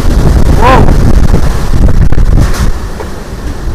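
Loud, blustery wind from Super Typhoon Uwan roars and buffets against the microphone, with a brief whistling tone and a voice exclaiming over the gusts.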